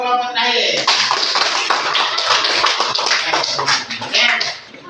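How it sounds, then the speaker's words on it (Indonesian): Applause for the last group in a classroom, a burst of brisk clapping from a group that carries on for several seconds and fades at the end, with a voice briefly heard at the start. "Aplaus untuk kelompok terakhir"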